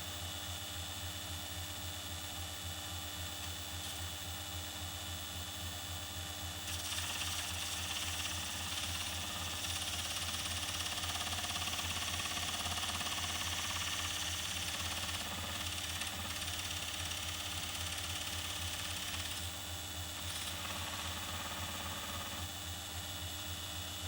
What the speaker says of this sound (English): let's go over to the lathe and try this out